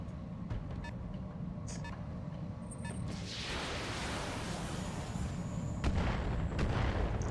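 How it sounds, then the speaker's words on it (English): Mortar fire and explosions in the BattleTech video game, a dense rolling rumble of booms building from about three seconds in and staying loud to the end, with sharper bursts near the close. "Someone's got a mortar."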